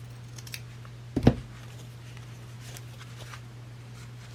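Scissors snipping paper for a craft project: one brief, close crunching cut stands out against a quiet room with a steady low hum, and nobody speaks.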